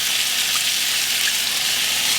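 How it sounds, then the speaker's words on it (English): Gravy with onions bubbling and sizzling in a pan as vegetable broth is added, a steady close hiss with faint popping and no voices. "we're going to bubble this gravy now with some vegetable broth"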